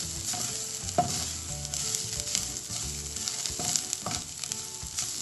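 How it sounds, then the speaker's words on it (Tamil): Coriander and cumin powder sauté in a pan with a strong, continuous sizzle and occasional scraping stirs and soft knocks close by, with no voices. "இதெல்லாம் சேர்த்து நல்லா வதக்கி கொடுக்கிறேன்"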